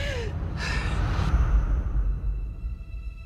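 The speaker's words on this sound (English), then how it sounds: "Rey slams down her hand and gasps for breath" Rey, the heroine of the Star Wars: The Last Jedi teaser trailer, slams her hand onto rocky ground on an island and gives a sharp, breathy gasp for air over a low, rumbling dramatic score.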